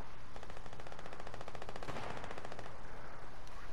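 Rapid automatic gunfire from the video game Fortnite, a steady stream of fast, evenly spaced shots forming one sustained burst over a low rumbling background, with no talking.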